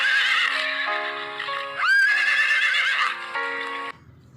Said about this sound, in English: hear the sound of the horse